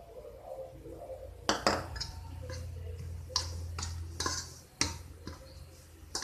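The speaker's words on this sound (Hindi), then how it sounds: "बूरा शक्कर हम इसमें मिक्स करके देख लेंगे" A spoon stirs powdered sugar into coriander panjiri in a bowl, giving a handful of sharp clinks and taps against the dish over a soft background hiss.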